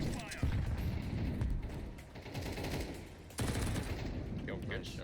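Dense gunfire from the video game Counter-Strike, rapid bursts and single shots layered in a continuous match mix, with a voice talking over the action.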